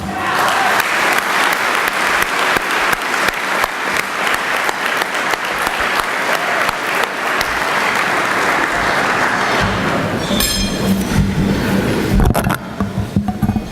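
A banquet audience bursts into loud, sustained applause for an arriving speaker at a naval surface warfare dinner, with dense clapping filling the room, tapering near the end as shuffling and movement come through.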